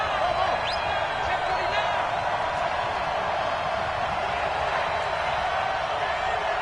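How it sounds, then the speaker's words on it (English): Stadium crowd roaring in a football video game ahead of a big third down, a steady broad wash of cheering sustained throughout at even loudness. "the crowd getting into it as we come up on a big 3rd down"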